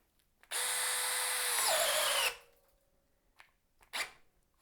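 A DeWalt 12-volt Xtreme hammer drill driving a 3/4-inch Irwin speed bore self-feed auger bit whines loudly for about two seconds, then winds down, followed by a few faint clicks and handling noises.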